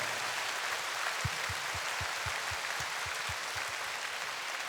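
A large crowd at a 2016 Hong Kong Coliseum concert honouring a lyricist claps in a distant, steady wash, with a regular series of low thumping beats pulsing underneath.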